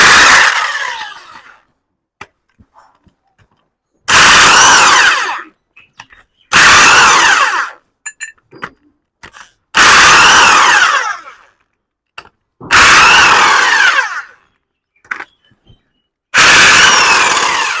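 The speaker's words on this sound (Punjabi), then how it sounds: "ਇਹ ਫਾਇਦਾ ਡਰਿਲ ਦਾ ਦੇਖੋ ਮਿੰਟੋ ਮਿੰਟ ਹੀ ਖੋਲਦੀ ਆ" An electric drill opens the starter motor body of a Ford tractor in six loud, separate whirring bursts of one to two seconds each. Short clicks and quiet gaps fall between them.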